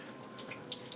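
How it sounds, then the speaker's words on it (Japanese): A giant sea cucumber squirting out seawater gives a faint, wet trickle with a few soft splashy spurts near the end, close by and quiet. "とりあえず刺激するとね、こいつ水出してくるんですよ。"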